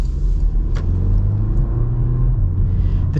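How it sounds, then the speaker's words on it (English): A 2024 Porsche Macan accelerating, a steady deep engine rumble and road roar that holds loud and close throughout with no talk. "see how this accelerates"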